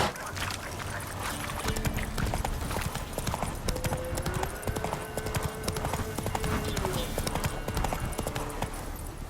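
Galloping horse hooves from The Witcher 3, a steady rapid clip-clop of a ridden horse heard close and continuous throughout, with a voice urging the horse on partway through.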